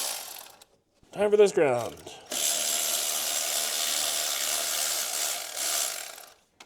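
A ratchet loosens a nut on the alternator of a Jeep Cherokee XJ with a 4.0 engine, a few seconds of close, steady clicking heard after someone briefly speaks.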